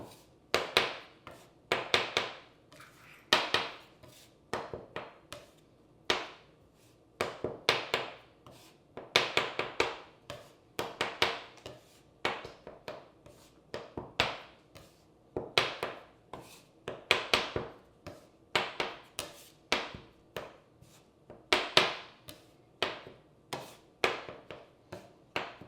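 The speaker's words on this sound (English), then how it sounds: "I'm gonna use my bench scraper. So I'm just gonna take it and kind of chop it in." A bench scraper repeatedly chops flour into pasta dough for lasagna, making sharp taps and thuds on the work surface in quick irregular clusters with short pauses, fairly close and moderately loud.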